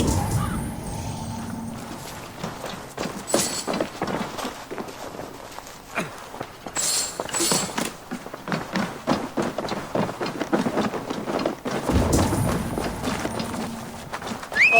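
Horse hooves drum along in Assassin's Creed Valhalla, a steady clip-clop gallop close by for the whole stretch, with game music and ambience underneath.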